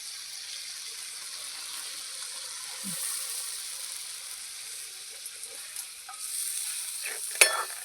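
Eggs dropped into hot spiced oil over a wood-fired chulha, a soft steady frying hiss with a few faint knocks and a sharp clink near the end, quiet and close.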